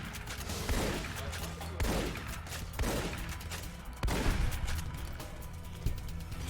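Shotgun blasts in Fallout: New Vegas come as several loud, sharp shots a second or so apart, each with a booming decay, and no one speaking.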